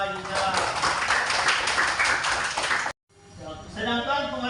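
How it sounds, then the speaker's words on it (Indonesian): A burst of applause from a classroom group, dense clapping for about three seconds, then it cuts off and a voice begins speaking. "Tepuk tangan untuk Siva Yuda."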